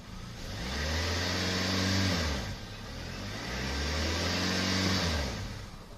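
A Kia Optima hybrid car engine revs up twice, each surge rising in pitch, holding, then dropping back, loud and close with no talking.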